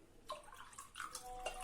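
Warm water trickles and splashes into bread dough in a bowl in a home kitchen, a soft, close pouring with brief drips and gurgles, fairly faint and with no talking.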